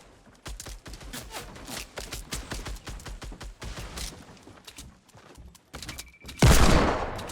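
Sniper and other gunfire in a Fortnite match makes a rapid string of sharp cracks and thuds, close and loud, that pause briefly before a final loud burst.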